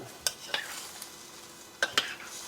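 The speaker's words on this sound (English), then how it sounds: "Just going to give that another stir." A spoon stirs smoked sausage, cabbage and potatoes cooking in a crockpot, giving a few scattered clinks and scrapes against a quiet background with no talk.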